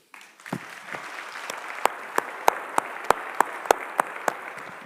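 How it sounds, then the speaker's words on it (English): An audience applauds in sparse, evenly spaced claps that ring out one after another in a reverberant conference hall. "A round of applause for everybody here."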